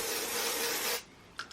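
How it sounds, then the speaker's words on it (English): Elvive dry shampoo sprayed onto hair in one steady hissing burst of about a second, close and fairly loud, followed by a couple of faint brief rustles. "You basically just spray it on."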